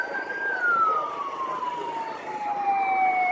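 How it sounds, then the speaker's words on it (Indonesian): An ambulance siren approaching on a main road near Gubeng, Surabaya, a wailing tone sweeping slowly downward over a few seconds with traffic rumble beneath, fairly clear and unaccompanied by talk. "datang juga ambulan"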